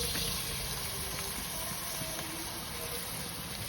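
Water is added a little at a time into a mushroom chicken mixture in a home kitchen, giving a steady, close, continuous watery rush that runs without pause and has no talk over it.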